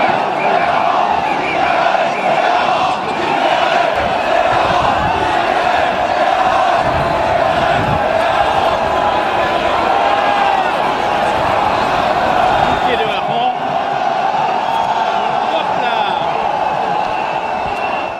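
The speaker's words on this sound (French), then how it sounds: "Au passage devant l'hôtel de ville, la foule réclame son dû." A dense carnival crowd before the Dunkerque town hall roars and shouts for the herring throw, a loud unbroken wall of clamouring voices and whoops that lasts throughout.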